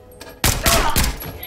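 Gunfire in the stealth video game Splinter Cell Blacklist: after a moment of low ambience, a loud close burst of shots rings out, with a few heavy reports in quick succession.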